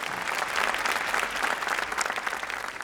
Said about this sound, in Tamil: அன்புக்குரிய கோயில்பட்டியைச் சேர்ந்த திருமதி அன்னபாரதி அவர்களுக்கு ஒரு பெரிய கரகோஷம்